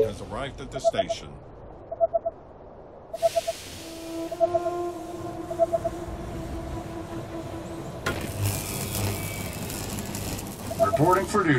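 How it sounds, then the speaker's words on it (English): A train pulls into a station in the strategy game They Are Billions: a sustained horn-like tone stretches over several seconds amid rumble, hiss and repeated short game beeps, with a voice heard in places. "The train has arrived at the station."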